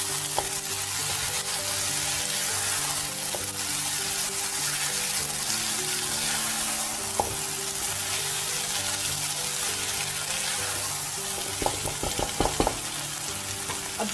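Boiled veg chow mein noodles are stirred into a hot pan with tomato ketchup, giving a continuous close sizzle with scraping and a few sharp clinks of the utensil near the end.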